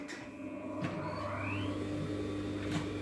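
A sewing machine stitching garment lining to the inner edge of the facing, running steadily with a continuous mechanical hum and rapid needle clatter, fairly faint and close, with no talking.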